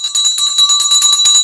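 Stock market closing bell ringing loud and close, a rapid continuous metallic trilling of quick repeated strikes that holds steady for about a second and a half.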